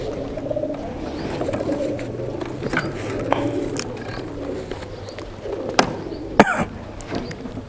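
Racing pigeons at a pigeon club in Mansa coo in soft, low, repeated rolls, with a few sharp coughs or knocks nearby and faint talk in the background.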